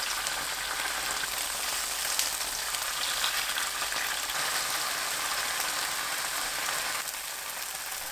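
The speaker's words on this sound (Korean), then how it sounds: "팬에 식용유 2큰술, 두부 넣어 노릇하게 구워주세요" Tofu pan-fries in two spoonfuls of cooking oil over medium heat, giving a steady, even sizzle with fine crackling that holds constant, no voices.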